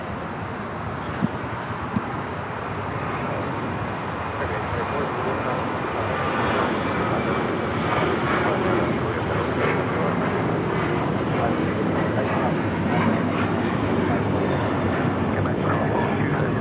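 An Alaska Airlines Boeing 737-900ER takes off at LAX, bound for Los Cabos. Its jet engines give a broad, steady rumble that swells and then holds loud, with a few faint clicks early on.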